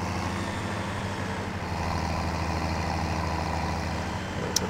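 Steady low tractor engine drone in Farming Simulator 17, constant rumbling hum with no talking.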